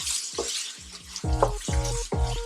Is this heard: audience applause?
no